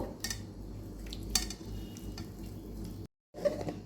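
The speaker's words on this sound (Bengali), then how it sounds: "এই আলু দুটো চটকে আমি ওই সোয়াবিনের সাথে মিশিয়ে নেব" Boiled potatoes are mashed and mixed with soy chunks in a bowl, making soft continuous scraping and squishing with a few sharp clinks, quiet and close, with no talk.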